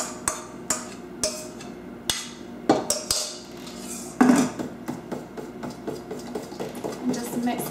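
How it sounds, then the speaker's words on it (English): Mashed bananas being mixed into a cake batter of flour and skim milk, with a spoon or whisk clinking and tapping against the bowl in irregular bursts, close by, under soft background voices. "And just mix all that together."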